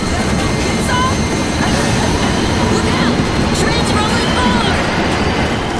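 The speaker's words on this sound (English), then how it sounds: "Train's rolling forward." A train rolling forward in the World War Z video game, a steady dense rumble filling the whole stretch, with a voice speaking over the top.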